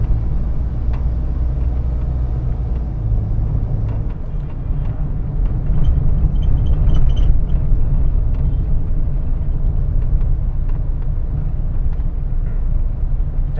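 A car accelerating along a highway during a driving lesson, heard from inside as a steady low engine and road rumble that swells slightly midway and then holds, with no talking.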